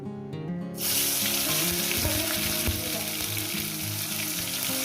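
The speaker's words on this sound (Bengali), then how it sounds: "এই তেলে দিয়ে দেবো টমেটো" Tomatoes dropped into hot oil for a rohu fish curry: a brief quieter stretch gives way to a sudden loud burst of sizzling that stays dense and steady, with faint tonal notes underneath.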